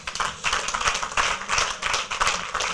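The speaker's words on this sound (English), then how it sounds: "deserves a serious round of applause" Audience applause at a general meeting of a professional institute chapter, a close, brisk clatter of many hands clapping in a dense, uneven rhythm, loud and continuous with no talk.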